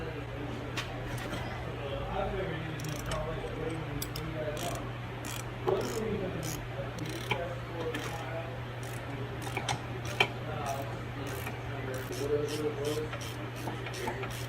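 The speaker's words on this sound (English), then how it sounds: "You got a 15 ratcheting wrench here. And start pulling these out." A 15 ratcheting wrench clicks as it backs bolts out of a 2006 Chevy Silverado 1500 front wheel bearing. Runs of fast, light ticks come in bursts over a steady background hum.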